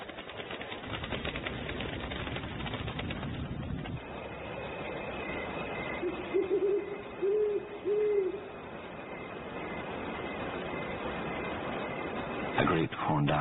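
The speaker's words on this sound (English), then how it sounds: "A great horned owl scans the horizon for prey." A great horned owl gives a few soft, low hoots in a short series, faint under steady narration and background hiss.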